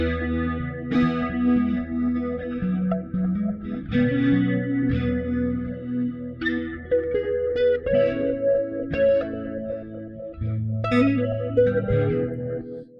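Guitar chords and picked notes run through reverb and delay pedals ring out drenched in effects, with a washy, chorused, echoing tone over a sustained low layer.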